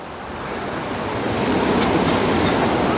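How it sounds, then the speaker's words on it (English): Large sea waves crash against the Dawlish seawall, a broad roaring surge that swells louder and stays heavy, with wind buffeting the microphone. "have a look at these waves"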